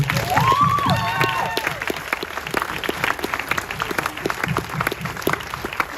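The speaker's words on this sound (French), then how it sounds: "Puis une bonne main d'applaudissements pour eux aussi." An audience at a film screening event bursts into applause, loud at first with a whistle and some cheering, then settling into steady, lighter clapping that carries on to the end.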